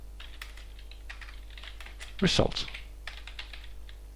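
Someone types Python code on a computer keyboard, with scattered soft key taps and one louder burst of presses, while a voice speaks briefly over a steady low hum.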